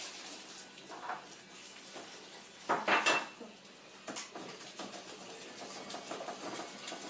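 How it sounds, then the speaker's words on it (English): A child whisks egg replacer in a bowl, producing quick scraping and clinking taps of a whisk against the bowl, with a louder burst of clatter midway, close and without talk. "Sophia's going to whisk that up real good."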